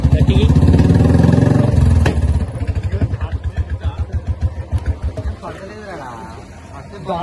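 A Royal Enfield motorcycle fitted with an aftermarket exhaust is electric-started nearby: a loud churning crank, then a deep, rhythmic thumping idle that gradually softens.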